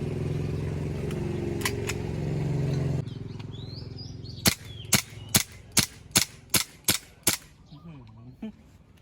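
A gas-powered Glock 17 BB pistol fires outdoors, two sharp cracks followed by a rapid string of about eight evenly spaced loud snapping shots, with faint birdsong in the background.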